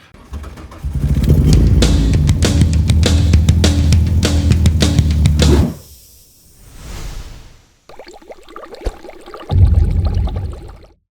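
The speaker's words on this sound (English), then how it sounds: "We just want to see if we've got a spark and whether it'll even crank." A VW Golf Mk2 engine cranks over, a loud, steady rhythmic churning for several seconds that stops abruptly, followed by quieter mechanical clatter and another short burst of cranking near the end.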